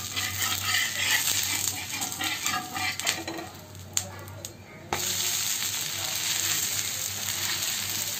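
Ragi dosa frying in a hot pan, a steady soft sizzle with occasional clinks and scrapes of a utensil against the metal, close and fairly quiet, with no speech.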